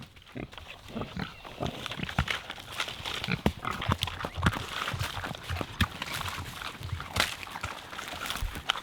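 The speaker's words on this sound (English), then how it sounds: "Pig, pig." A pig snorts and grunts close by in quick, irregular bursts on a free-range homestead, mixed with shuffling and chewing noises.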